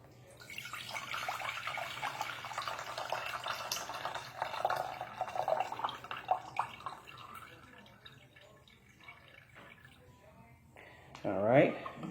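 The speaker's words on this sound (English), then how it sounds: "You want to drain all the juice out of the jar of pickles" Pickle juice from a jar of Food Lion pickles drains into a pot, making an uneven liquid splashing and trickling that fades to drips. Faint talk runs underneath, and a short whistling sweep sounds near the end.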